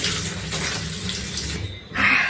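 Water runs steadily from a tap for washing off, a continuous close splashing rush that briefly drops away and then returns with a brighter hiss.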